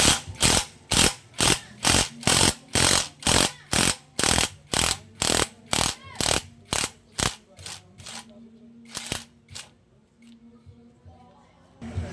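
A power drill bores out a welded-on part of a motorcycle, sounding as a string of loud, evenly spaced bursts close by that thin out and grow irregular toward the end.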